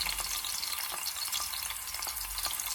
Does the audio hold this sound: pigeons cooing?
no